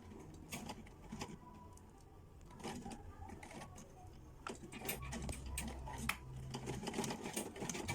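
A sewing machine stitches an invisible zipper close to a crease line, its motor whirring in bursts with short pauses, fairly close and moderately loud, with faint clicks between runs.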